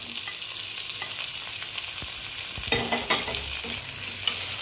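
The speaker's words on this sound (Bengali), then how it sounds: "টমেটো কুচি দিয়ে আবার একটু এইভাবে নেড়ে চেড়ে নিচ্ছি" Chopped tomatoes frying in a pan for a paneer bharta, with a steady sizzle under scraping, clattering stirring strokes that grow louder toward the end; no one speaks.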